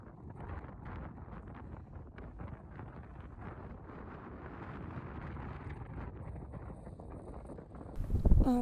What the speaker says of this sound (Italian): c'è un vento pazzesco, abbastanza fastidioso, ad essere onesti, e abbastanza freddo anche